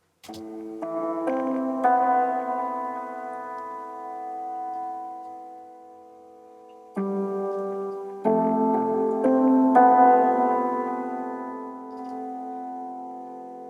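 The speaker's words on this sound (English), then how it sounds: "So the piano part sounds like this." Soft sustained piano chords ring out slowly, swelling and fading with a lush, reverberant wash, a few chord changes over a quiet background.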